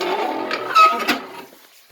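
A kitten gives a short, close meow that fades out quickly in an otherwise quiet indoor space.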